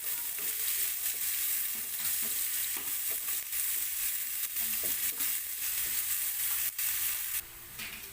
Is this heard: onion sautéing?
yes